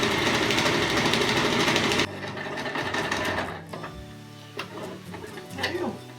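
A sewing machine runs a fast, loud straight stitch around a small box to attach Velcro to fabric for a car seat poncho. It then stops abruptly, leaving faint handling noises and a few soft clicks.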